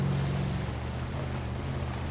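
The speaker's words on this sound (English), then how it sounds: "Then you've got the water taking us downriver here." Steady rushing river water in the Spin Tires off-road game as a Chevy 2500 HD truck is carried downriver, a continuous broadband wash with a low engine hum beneath.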